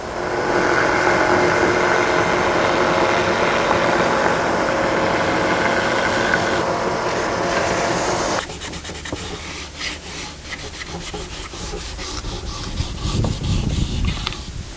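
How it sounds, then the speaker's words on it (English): A belt sander with a fine sanding belt runs loudly and steadily against the wooden edges of a zither being built, then its tone shifts to a rougher grinding as the pressure changes. "we'll put a fine sanding belt on and give it a nice finish all the way around the edges"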